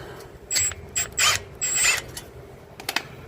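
Wrench turning and loosening a bolt on a Dodge Challenger ScatPack widebody, heard as several close, short metallic ratcheting and creaking bursts with brief pauses, no talk.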